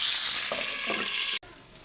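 Bitter gourd curry frying in hot oil: a continuous bright sizzle with a light stir, cut off abruptly near the end.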